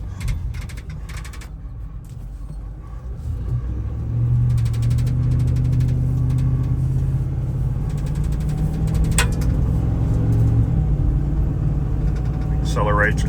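A 2016 Ram 5500 bucket truck fitted with an Altec AT37G insulated articulating boom speeds up. Its deep engine rumble holds steady, then swells louder around the midpoint and stays strong to the end.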